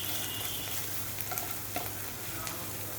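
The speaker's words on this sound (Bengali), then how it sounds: "পেঁয়াজটা একটু নাড়তে হবে নিচ থেকে যাতে পুড়ে না যায়।" Onion sizzles in a pan for a vegetarian curry, a steady close crackle of frying with a few light scrapes and taps as it is stirred from the bottom, no talking.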